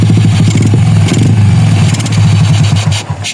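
A motorcycle engine with a dirty carburetor runs rough and misfires, its loud close idle chugging unevenly with a stuttering, popping rhythm throughout.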